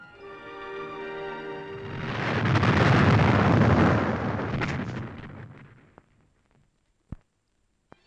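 A volley of tunnel-blasting mines set off by a detonator during tunnel boring work: a loud, rolling explosive roar that swells and fades over several seconds, followed by a few sharp isolated cracks and pops near the end.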